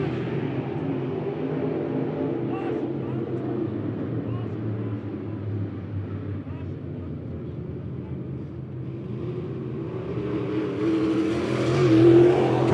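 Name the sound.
USRA Modified race cars racing at Monett Motor Speedway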